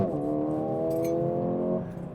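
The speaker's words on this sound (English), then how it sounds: "It seems to have this subwoofer boom when it upshifts, but only in automatic mode" A Mercedes-AMG CLA35 engine drones with a steady harmonic hum that holds level for about two seconds before dropping away as the car upshifts in automatic mode, with no talk over it.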